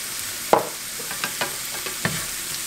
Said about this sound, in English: I'm just going to let it simmer for just a few minutes on low.